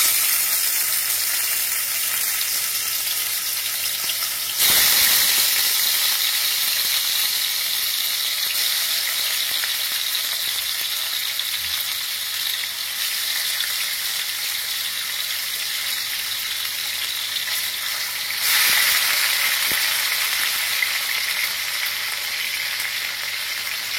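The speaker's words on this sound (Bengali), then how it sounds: "এবার এই কড়াইয়ের তেলে আস্তে আস্তে সেগুলো হালকা করে ভেজে নেব।" Bhetki fish pieces frying in salted oil in a nonstick wok, a continuous bright crackling sizzle that swells sharply twice when the fish is stirred or turned.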